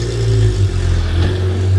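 A car engine revs hard through a loud exhaust at a Porsche night at the Ace Cafe, a steady, close, rumbling roar that swells and dips slightly without letting up.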